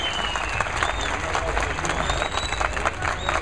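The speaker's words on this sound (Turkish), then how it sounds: "Bir alkış yapın canım sizde." Audience applause at a children's poetry recitation event, steady dense clapping with some crowd noise and a faint voice underneath, continuous through the short stretch.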